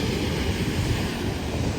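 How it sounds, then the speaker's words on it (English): Ocean waves break on Sandy Beach, a loud, continuous wash of surf with wind across the microphone and no voices. "look at those waves"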